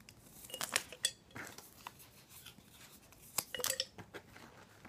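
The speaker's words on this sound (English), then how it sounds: "And now I'm folding them and putting them in my jar." Paper slips folded and dropped into a glass jar with a metal lid, giving soft rustles and several light clinks and taps, close and quiet with no voices.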